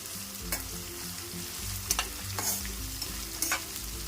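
A large bowl of onions frying with green chillies in oil for kanda poha, with a low steady sizzle, several spatula scrapes and taps, and a rumbling hum underneath.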